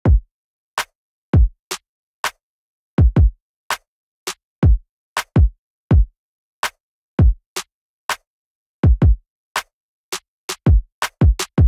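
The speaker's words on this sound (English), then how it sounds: "Let's talk about the kick and the clap and the snare real quick." Sparse beat pattern of punchy kick, clap and snare hits, each a sharp transient with decaying low thump, repeating in an uneven groove with no other instruments or voices.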